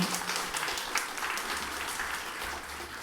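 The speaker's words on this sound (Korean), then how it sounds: "하나님께 한번 영광의 박수를 드립시다." A church congregation applauds during an anniversary founding Sunday morning service, with many hands producing a steady, fairly soft, even wash of clapping throughout the three seconds.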